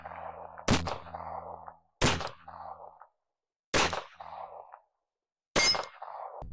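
A 1911-style pistol fires four .45 ACP self-defense rounds, each a sharp, loud crack with a short ringing tail. The shots are spaced about one to two seconds apart, with silence between them.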